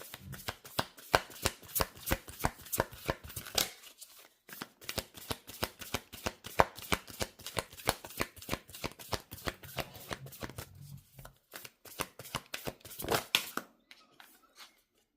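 Tarot oracle cards being shuffled by hand: a long run of rapid, crisp riffling bursts close up, with a short pause near the middle and silence at the end.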